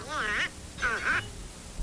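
A cartoon duck quacking twice in quick succession, close and clear, with nasal, warbling cartoon-style calls and no other voices.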